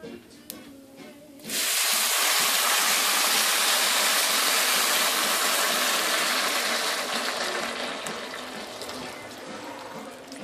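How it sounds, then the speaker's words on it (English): Filtered tap water pours into a cooking pot, starting abruptly with a loud, steady rushing splash that continues for several seconds before slowly easing off. "after a couple of minutes, we're going to add the water."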